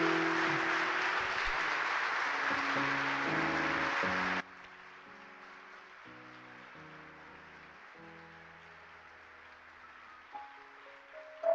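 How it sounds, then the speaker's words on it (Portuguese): A church congregation applauds loudly over keyboard music for about four seconds, then the clapping cuts off suddenly and the soft chords play on alone. "Gostaria que a gente aplaudisse,"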